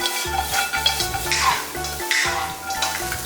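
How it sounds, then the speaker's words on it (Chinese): Fried lamb ribs tossed with cumin in a hot wok, with steady sizzling and the rhythmic scrape and clatter of a spatula stirring, close and moderately loud throughout. "把炸好的羊排倒进去，倒入孜然料， 翻炒均匀就可以出锅了"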